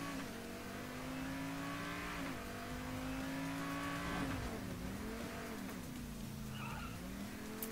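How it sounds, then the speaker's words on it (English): A car in the video game PayDay 2 during a car shop heist, its engine humming steadily as tires squeal and skid in long, wavering screeches, loud and continuous with no voices. "Oh my God, a car and PayDay too."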